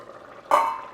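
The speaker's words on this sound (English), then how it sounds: "I added a cup of hot water." Hot water poured into a pan of Portuguese seafood rice with squid rings, a sudden splashing pour that starts halfway and runs steadily to the end, close and fairly loud.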